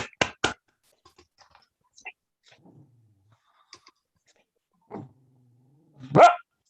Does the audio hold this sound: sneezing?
no